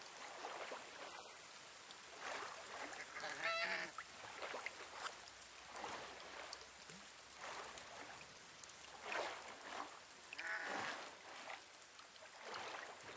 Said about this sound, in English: Are you surrounded by birds? Yeah, little ducks.